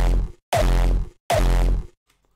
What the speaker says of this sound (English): when we take away that compression and the extra layer, this kick sounds like this.